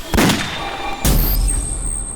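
Two loud, sharp gunshots about a second apart, each with a ringing echo trailing off afterward.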